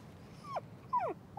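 A labradoodle whimpers quietly indoors, giving two or three short, high, whining sweeps that slide downward, separated by brief pauses over soft background hiss.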